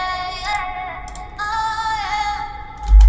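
Dry RnB vocal sample without radio-style processing, smooth sung melodic phrases over a low, steady backing, ending in a thump of bass, with no one speaking.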